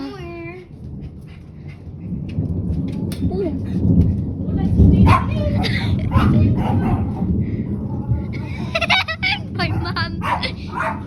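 A dog barks and whimpers outdoors during a thunderstorm with rumbling thunder and rain, several sharp barks at the start and end, with people talking throughout.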